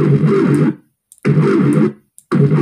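A dubstep growl synth patch built in Soundtrap, played as three loud, distorted sustained bursts with short silent gaps between them, buzzy and harmonically rich, heard alone.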